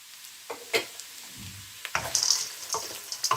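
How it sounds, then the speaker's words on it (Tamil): Fried potato pieces tipped into a pan of onion and carrot for upma, giving a close sizzle broken by sharp clacks and scrapes of stirring, with the frying growing louder toward the end. "இப்போ இந்த நேரம் நான் பொரித்து வைத்திருந்த இந்த பொட்டேட்டோ துண்டுகள் எல்லாத்தையும் அதோட சேர்க்கிறேன்"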